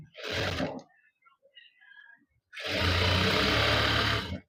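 Sewing machine stitching a seam on a pair of shorts, a short burst of running, a pause with faint handling, then a steady loud continuous whir close by.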